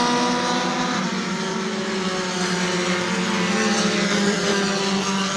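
Bomber-class stock cars roar around the New Smyrna Speedway oval in a dense, continuous engine drone, several loud motors blending together with no pauses.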